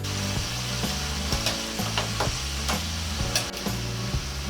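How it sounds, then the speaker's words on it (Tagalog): Chicken pieces frying in a pan for Filipino adobo, a steady hiss and sizzle with occasional clicks and scraping from stirring, moderately loud and continuous with no voices. "Piprituhin po muna natin yan hanggang sa mag-golden brown po siya."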